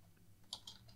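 A few faint, quick key clicks on a computer keyboard are heard in a quiet room, with two sharper taps close together near the end.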